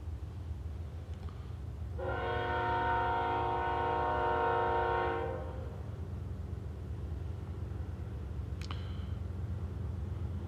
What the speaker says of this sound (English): Life in Livingston wouldn't be the same without the train.